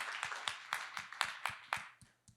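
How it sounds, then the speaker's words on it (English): A small audience at a talk on storytelling for creators claps in quick, fairly even beats, fairly faint, with the claps thinning out and fading to silence after about two seconds. "Like a round of applause to all of you."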